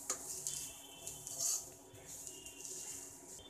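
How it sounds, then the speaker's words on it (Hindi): Besan and onions fry gently in a pan over a slow flame while a spoon scrapes and stirs, giving soft sizzling with intermittent metallic clinks and scrapes close by. "तो अब मैं इसे अच्छे से स्टर कर लेती हूँ।"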